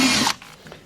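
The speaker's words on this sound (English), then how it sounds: "I'm going to drill these out too." A power drill bores out old holes in the fiberglass of a used sailboat, one loud burst of drilling for about a third of a second before it cuts off, leaving faint handling noises.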